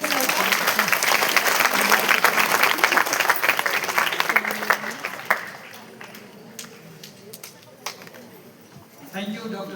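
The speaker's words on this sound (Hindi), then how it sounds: "तालियों से स्वागत कीजिए।" Hall audience clapping to welcome a speaker to the stage at a medical gathering, strong and dense for about five seconds, then thinning to scattered claps before someone begins speaking near the end.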